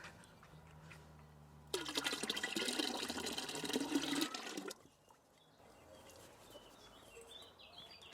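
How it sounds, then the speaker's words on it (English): Lemon juice poured into a big pot of elderflower syrup ingredients makes a loud, continuous splashing pour of liquid lasting about three seconds, set against quiet surroundings. "Lemon zest is in, juice goes in."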